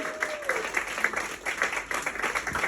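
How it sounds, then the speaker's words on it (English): Quiet, scattered applause from a comedy club audience for a comedian, irregular claps over a low murmur, with a brief voice near the start. "A round of applause is right,"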